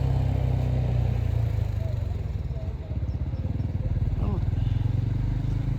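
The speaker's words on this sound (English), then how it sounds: "Well, we got people riding quads." Quad bikes ride through city streets, their engines droning steadily and rumbling nearby with slight revving.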